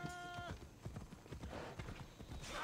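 Horse hooves clip-clopping in the video game Assassin's Creed Odyssey, a steady run of close, distinct hoof beats at a trotting pace, with a brief tonal game sound at the start.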